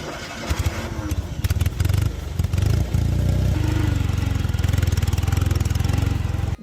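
BMW R1250GS boxer twin motorcycle engine running close by, a steady throbbing two-cylinder pulse with a few uneven blips early on before settling into an even, loud drone; no talking.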